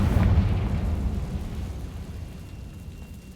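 A Confringo spell explosion in a Harry Potter video game, heard as a loud, deep booming blast that rumbles and slowly fades away on its own.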